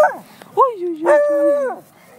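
A dog barking and whining, a few sharp yelps and a drawn-out whimpering howl at close range, loud and clear with little else around.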